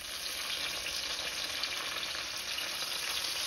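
Mushrooms frying in heated olive oil in a skillet give a dense, even sizzle that holds steady and fairly quiet throughout, with no voices.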